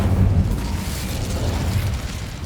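The Incendio fire spell cast in Hogwarts Legacy, a dense, loud whooshing burst of flame that roars continuously for a couple of seconds with heavy low rumble and no pause.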